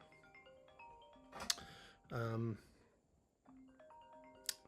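Phone ringtone from an incoming call plays quietly in a room, a repeating melodic tone pattern broken by a louder burst, with someone talking over it.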